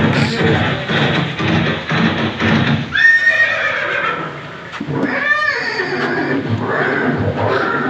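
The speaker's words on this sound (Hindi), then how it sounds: "दृश्य महाराणा प्रताप और सुविख्यात स्वामी भक्त घोड़े चोटक के अंतिम मिलन का है" Neighing of Chetak, Maharana Pratap's horse, in a dramatized scene of their last meeting after the Battle of Haldighati: loud whinnies with clip-clop hooves under a music bed and voices.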